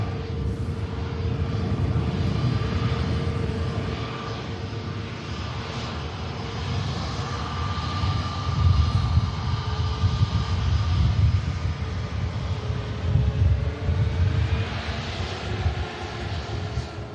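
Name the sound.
ATR turboprop aircraft on takeoff roll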